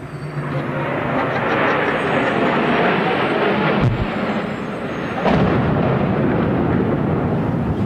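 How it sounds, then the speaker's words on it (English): A plane crashing into a World Trade Center tower on 9/11: a loud, continuous roar with a sharp, heavy impact burst partway through and another surge soon after, all in a broad, rumbling broadcast-style mix. "It sounded like a plane crash."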